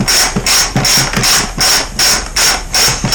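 A ratchet on a long 10mm extension undoes a bolt on a Kawasaki ZX9R E2 motorcycle, giving repeated close, loud clicking ratchet strokes in a steady back-and-forth rhythm with short pauses between bursts.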